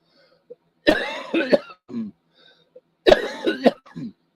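A person coughs in two separate bursts, each a rough, hacking cluster of coughs with a throat-clearing quality, close up with quiet pauses between.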